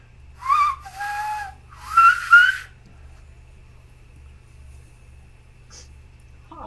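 A person whistles to imitate a low whistle coming from a prison cell: two or three short, wavering whistled phrases close by, then near silence over a low steady hum.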